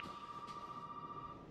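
An old telephone in Resident Evil 7 gives one steady electronic ring, a single sustained trill lasting about a second and a half, faint and heard alone.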